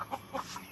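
Chickens clucking in a flock at a Filipino home, now grown from four birds to more with chicks, giving short repeated clucks in a quick uneven rhythm, close and moderately loud, with no talk.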